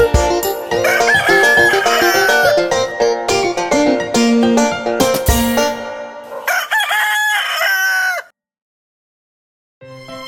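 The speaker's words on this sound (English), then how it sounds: "Sing cock-a-doodle-doo." A rooster's cock-a-doodle-doo crowing inside a bright children's nursery-rhyme song, loud and up front among busy music, then a short silence before the music resumes.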